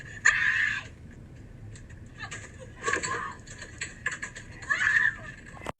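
High, strained screams break out in several bursts, one near the start and more toward the end, over a steady background hum.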